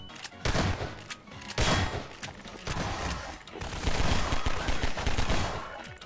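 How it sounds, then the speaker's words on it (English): Shotgun fire in a video game mod: a rapid series of loud, close blasts and crackling gunfire with short gaps between volleys, with no voices over it. "Let me shotgun him off."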